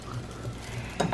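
Green beans stirred in a large pan, a soft scraping shuffle that ends in a couple of brief louder clinks of the utensil against the pan.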